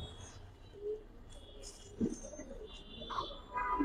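Pigeons in a loft of old-breed Giribaz and colouring pigeons, with soft intermittent coos and low calls scattered over a busy background of faint chirps and hum.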